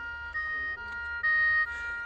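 A Maisto Alarm Busters diecast toy ambulance plays a small electronic two-tone siren, thin and steady, alternating pitch a few times up close with no talking.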